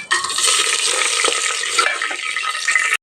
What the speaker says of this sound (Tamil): ஏலக்காய், பட்டை லவங்கம், சோம்பு இதெல்லாம் நம்ம எண்ணெயில் சேர்த்திக்கலாம்